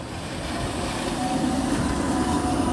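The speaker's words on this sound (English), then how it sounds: "my husband are riding a streetcar together in New Orleans" A New Orleans streetcar rolls along its rails, a steady low rumble with faint rail hum and light clatter, continuous and close from inside the car, with no talk.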